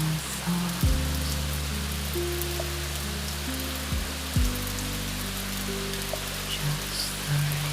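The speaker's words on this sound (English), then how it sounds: "Just the rain." Steady rain pattering on surfaces on a calm night in Tokyo, a soft continuous wash with no voices, while low tonal music sustains underneath.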